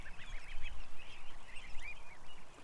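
Several ducks honk and quack in a loose, overlapping chorus, fairly close and moderately loud, with calls rising and falling over a low rumbling background and no talking.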